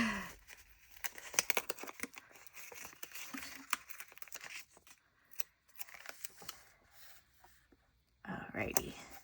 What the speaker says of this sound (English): I grabbed another sticker sheet.